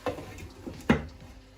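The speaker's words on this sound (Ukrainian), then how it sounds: "Накриваємо кришкою." A few soft metallic clinks and a single clearer clack as a lid settles onto a frying pan of potatoes, close and fairly quiet.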